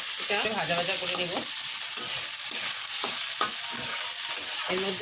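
Rice for pulao frying in ghee and oil with green chili, stirred in the pan: a steady, close sizzle with soft scraping strokes of the spoon throughout.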